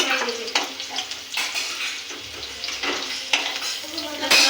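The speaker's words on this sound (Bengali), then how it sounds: "ভাজা হয়ে গেছে" Potatoes frying in oil in a pan, a close, steady sizzle with bursts of stirring and the clink of a utensil against the pan.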